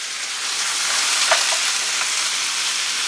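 Chicken white meat sautéing in vegetable oil over very high heat, a steady bright sizzle holding evenly throughout, with one brief sharper pop near the middle.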